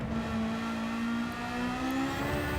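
Steady engine drone heard from the cockpit of a car in Gran Turismo 7, a sustained tonal hum with a slowly rising pitch, close and continuous throughout with no talking.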